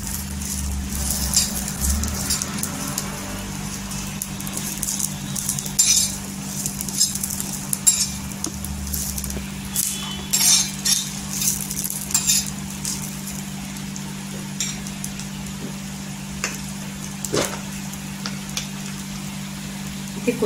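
Garlic and chillies roast in a pan for thecha, sizzling softly over a steady low hum, with scattered clinks and scrapes of stirring throughout.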